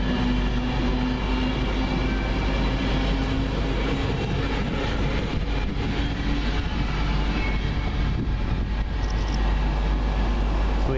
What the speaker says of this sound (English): With 82228 as our train does come in, the 12:48 service to Plymouth.